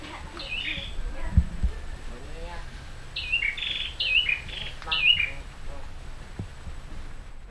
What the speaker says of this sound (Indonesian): sekeliling kita ini ada suara burung yang burung khas dari